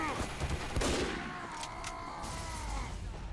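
Sniper gunfire sounds in a multiplayer shooter game, with a few sharp cracks spread over a few seconds and players' voices nearby.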